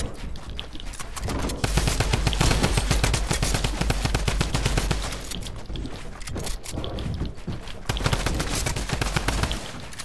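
Rapid automatic gunfire from a video game killing spree, loud and sustained in dense overlapping bursts for the whole stretch, with no voices.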